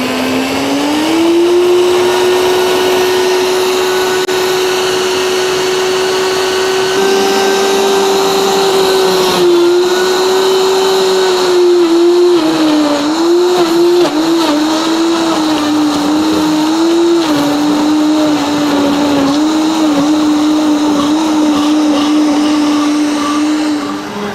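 A powerful Royal Catering RCMB-R2LC commercial blender whirs loudly and continuously making a smoothie, its motor pitch rising slightly then wavering as the contents churn, running for a long stretch.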